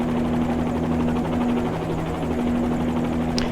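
Helicopter flying in Microsoft Flight Simulator 2020 near Las Vegas, a loud constant rotor and turbine drone with a steady hum throughout, no talk.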